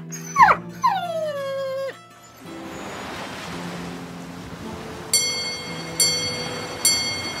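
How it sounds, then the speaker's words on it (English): A dog whimpers as a story sound effect, a few high, wavering whines up close at the start, followed by a steady wash of ocean surf and faint repeated bell-like chimes. "Then he found a gang of them teasing his old lame dog Finbar"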